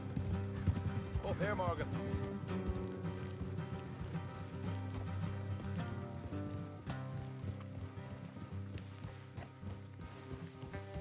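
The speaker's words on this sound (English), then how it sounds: "Let's leave the horses here and go the rest on foot." Horses in the Red Dead Redemption 2 video game, with steady hoof clip-clop running under constant music and game ambience, plus a brief whinny early on; someone speaks briefly over it.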